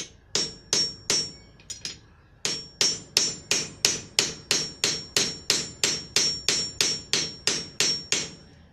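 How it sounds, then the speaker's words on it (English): Steel hammer setting a rivet on a horseshoe key rack, a few spaced ringing metal strikes followed by a long, steady run of sharp blows about three per second, close and loud with no talking. "finish setting the rivet"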